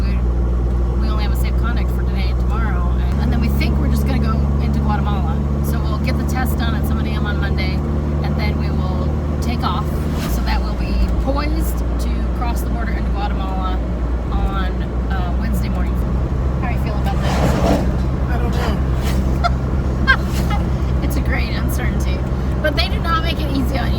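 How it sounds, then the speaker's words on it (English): Steady road traffic and engine rumble from inside a vehicle on the outskirts of Tegucigalpa, continuous low drone with gear changes, under a person talking. "We're on the outskirts of Tegucigalpa, and now we've hit traffic."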